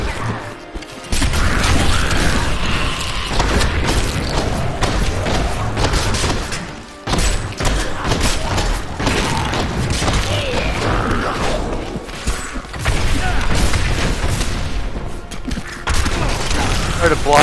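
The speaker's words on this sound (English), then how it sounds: "Try to block the grenade with your shield, bud" Grenades burst with heavy booms and thuds amid clattering combat in Diablo III, loud and dense throughout, with voices talking over the chaos.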